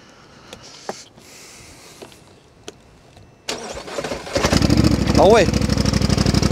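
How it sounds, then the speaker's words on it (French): Twin-cylinder 90 hp quad ATV engine cranking to life after a few clicks and faint noises, then catching into a loud, lumpy, throbbing idle with a quick rev; someone speaks briefly as it starts. "On sent direct que c'est un bicylindre."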